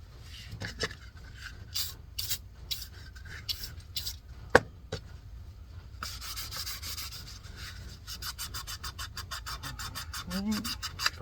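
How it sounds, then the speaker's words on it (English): A cloth with rim oil is rubbed over a freshly formed Kydex taco holster for an MC9. Uneven scratchy strokes come in short bursts, then a faster run of quick repeated swipes, all close and fairly quiet. "now we're just going to clean it up with our trusty old rim oil here"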